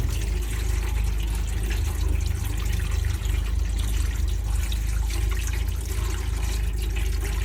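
Abundant water poured into a pot of soaked mung beans for boiling, a loud, continuous splashing gush that runs steadily throughout with no pauses or talk.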